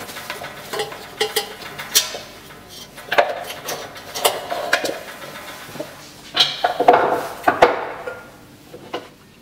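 Clattering metal clinks and knocks as a boot and funnel are taken off an LFA TDP tablet press and set into a small pot for excess powder, several separate close taps and scrapes with brief pauses between.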